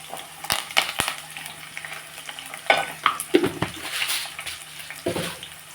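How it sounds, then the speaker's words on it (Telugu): Onions frying in a pan with a few chana dal grains for tempering a bottle gourd milk curry, giving a low steady sizzle broken by several sharp clinks and scrapes of a spoon stirring against the pan. "ఎల్లిపాయలు చూసారా బాగా వేగుతున్నాయి కదా"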